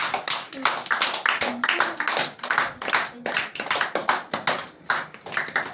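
Audience applause at a Tamil school debate on teachers' kindness versus strictness, a dense run of hand claps lasting several seconds, moderately loud and steady with slight swells.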